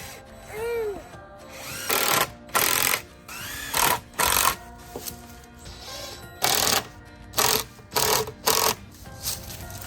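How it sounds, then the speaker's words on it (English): Wooden sandbox boards for a DIY playset are screwed together with a power drill, giving repeated short whirring bursts of driving screws close by, separated by brief pauses and faint handling noise. "I'm just gonna screw it together like this first"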